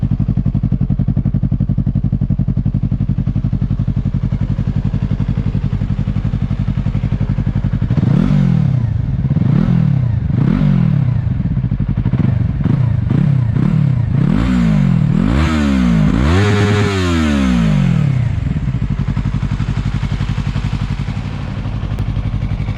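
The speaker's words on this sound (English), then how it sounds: "It actually doesn't seem so much louder than the last exhaust, but it's a nice sound." Yamaha MT03 motorcycle fitted with a Yoshimura Alpha T exhaust idles steadily, then is blipped through a series of sharp, loud throttle revs that rise and fall in quick succession before settling back to idle, close up with no talk.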